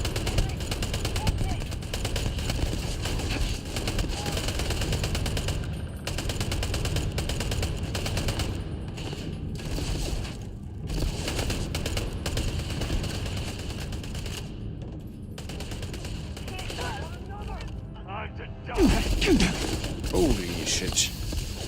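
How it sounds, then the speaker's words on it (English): A light machine gun fires in a video game, long rattling bursts of rapid shots broken by brief pauses, with game sounds and a voice mixed in. "let's blast through it with our newfound LMG"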